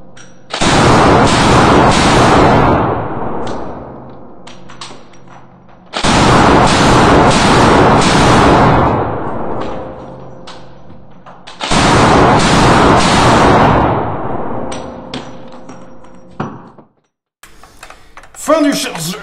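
A PPSh-41 submachine gun fires in a video game: three long bursts of rapid, loud automatic fire with rattling rounds, each trailing off into echoing decay, followed by mechanical clicks.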